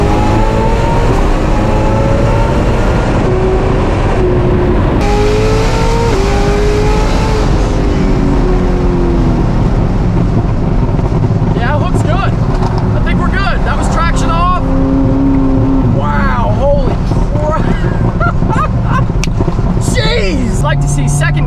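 A 1,200 HP Corvette ZR1 on a test drive roars loudly and continuously, with its engine pitch sweeping up through repeated acceleration runs and shifts, up close under heavy wind and road noise.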